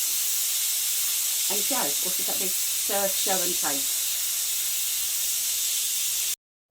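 Steam from a Ninja pressure cooker after cooking chicken noodle soup: a steady loud hiss runs through the whole clip, with someone talking over it.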